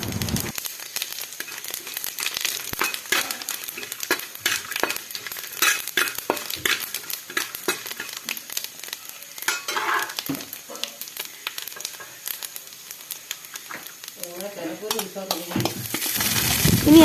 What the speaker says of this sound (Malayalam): ഇനി അതിലേക്ക് അല്പം പെരിഞ്ജീരകവും ചേർത്തൊന്ന് വറുത്തെടുക്കാം.